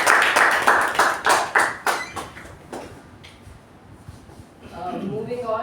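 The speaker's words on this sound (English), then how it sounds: "A huge round of applause." A few hands clapping at a Toastmasters meeting: a short run of distinct claps that quickly thins and fades, followed by a voice beginning to speak.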